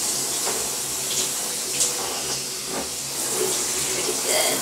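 Shower spray rinsing soap off the walls gives a steady hissing splash of running water throughout, close and loud, with slight shifts as the stream moves.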